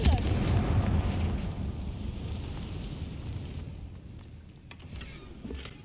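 A Confringo blasting spell going off in Hogwarts Legacy, a heavy booming explosion at the start that rumbles and fades into a lingering low roar, with a couple of faint clicks near the end.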